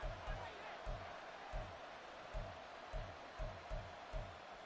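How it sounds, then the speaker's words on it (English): Stadium crowd in the Madden 24 football video game during a two-point conversion attempt, a faint, steady roar with rhythmic low thumps like stomping or chanting pulsing about twice a second. "Listen to this crowd now."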